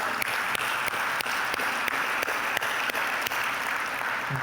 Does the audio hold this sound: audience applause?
yes